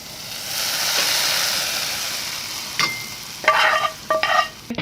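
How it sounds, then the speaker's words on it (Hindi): Green chilli sizzles and fries in a pan of kadhi pakora, a soft steady hiss broken near the end by several sharp scraping strokes of stirring. "और इसको अब हम पका लेंगे, थोड़ा भून लेंगे।"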